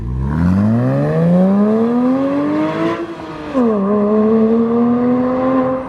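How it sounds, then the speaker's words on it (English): A Porsche 987 Boxster S engine revs up loudly at about three-quarter throttle, its pitch climbing smoothly, briefly dropping between shifts, then holding at a high roaring whine. "give me like three quarters throttle and come back."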